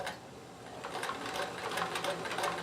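A sewing machine stitching on a button with a button sewing foot, a quiet steady rapid whirring and tapping, close by and continuous for a couple of seconds.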